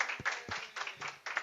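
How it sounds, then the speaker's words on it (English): At a small meetup, a few people clap in sparse, separate bursts, faint and close by, without any talk over them. "Let's give Mary a big round of applause"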